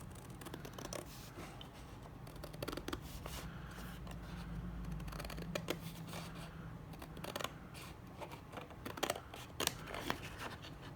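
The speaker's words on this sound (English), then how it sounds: "I'm just going to use my scissors." Scissors snip through green card in a run of short crisp cuts and paper rustles, close and quiet, with pauses between the snips and no speech.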